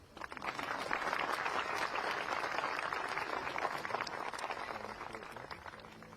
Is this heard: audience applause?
yes